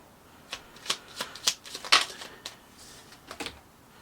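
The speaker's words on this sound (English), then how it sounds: "I'm going to pull some cue cards for you." Oracle cue cards are shuffled and drawn by hand, giving close, soft riffling bursts and papery slaps in an uneven rhythm, with no one speaking.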